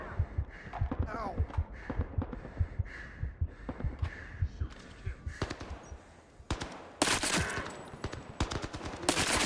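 Rapid bursts of UMP submachine gun fire in the VR shooter Zero Caliber VR, sharp repeated cracks in quick clusters, loudest and densest toward the end, with scattered thuds and game sounds between.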